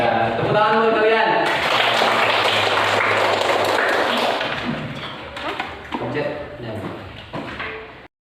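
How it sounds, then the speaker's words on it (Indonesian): Classroom students clap together in a dense, lively burst that lasts several seconds, then thins into scattered claps while a voice begins speaking over the tail end. "Tepuk tangan dulu kalian"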